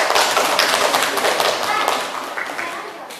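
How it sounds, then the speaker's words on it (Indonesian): A classroom group applauds a student group, with dense, steady clapping from many hands filling the whole stretch at close range. "Kita berikan aplaus dulu kepada kelompok 3"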